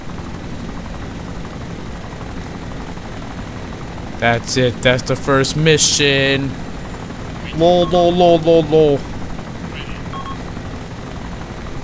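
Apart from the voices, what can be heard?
helicopter engine in video game ARMA 2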